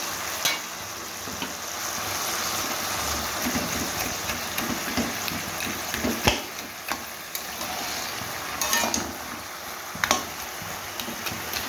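Fried fish head going into a pan of greens with green chillies, a steady close sizzle running throughout, broken by sharp clinks and scrapes of stirring against the pan.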